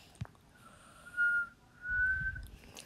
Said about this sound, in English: Sorry for whistling.